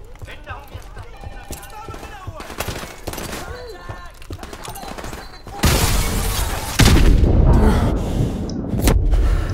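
Sustained gunfire and heavy blasts from frag grenades rumble through a Call of Duty: Modern Warfare Remastered campaign battle, growing louder and denser partway through, with someone talking over the combat.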